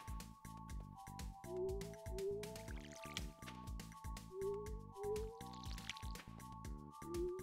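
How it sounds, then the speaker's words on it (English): Watering crops with a watering can in the Stardew Valley farming game gives a series of quick watery splashing drips, each followed by short rising chimes, repeating steadily over background game music. "Gotta water my fucking crops."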